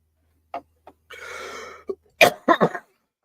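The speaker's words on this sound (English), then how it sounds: "really struggling with a cough today." A person coughs in short, separate bursts with a raspy throat-clearing stretch in between, then a final cluster of harsh coughs, close and alone.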